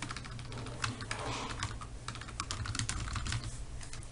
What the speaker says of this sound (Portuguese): digita o nome